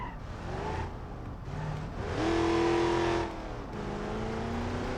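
Engine of a 1969 Dodge Charger R/T General Lee muscle car in the BeamNG.drive driving game, revving and accelerating with rising harmonic tones, a loud surge mid-clip before settling into a steady drone.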